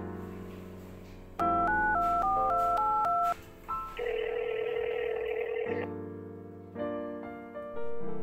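Hotel telephone operator's line sounding a run of DTMF dialing tones, followed by sustained ringback and dial tones while an external call is connected to an in-house guest; electronic beeps are clear and steady, with no voices.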